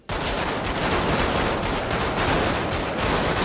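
Sustained, dense gunfire from a GTA 5 roleplay shootout, with rapid overlapping shots and bursts rattling continuously and loudly from start to finish with no pauses.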